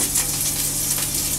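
Ackee and saltfish frying in a pan give a loud, continuous crackling sizzle with a bright hiss and no pauses.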